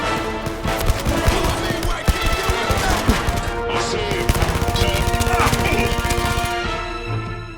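Rapid bursts of close, loud gunfire from the VR shooter Blood & Truth, with sharp repeated shots and machine-gun rattles packed together, then trailing off at the end.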